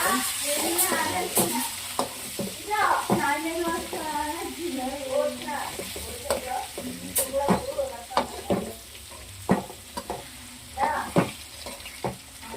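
Eggs for egg biryani fry in a pan with a persistent close sizzle and repeated sharp scrapes and taps as they are turned. A voice talks intermittently over the cooking.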